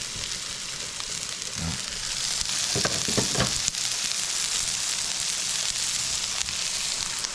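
Salmon frying in a pan alongside basmati rice and cumin seeds, giving a steady, close hiss of sizzling with a few louder crackles and spatters partway through.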